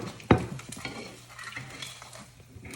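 An egg fries in a frying pan with a soft, steady sizzle, broken early by a single sharp utensil clink against the pan, all close by and without voices.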